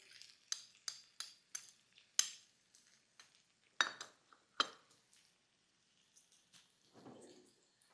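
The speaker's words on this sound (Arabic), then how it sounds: "راح اقلب البصل" Onions stirred in melted butter in a pan while cooking fish fillet, with a run of sharp utensil clinks and scrapes against the pan, then a soft sizzle rising near the end.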